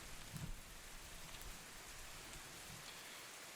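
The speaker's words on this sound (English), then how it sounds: "Thinking my sink is running, but it's the rain in the game." Steady video game rain hisses continuously with a soft patter of drops, faint and evenly spread with no voices, with a brief low rumble at the start.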